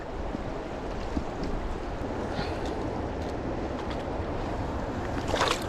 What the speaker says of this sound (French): je vais la remettre dans l'eau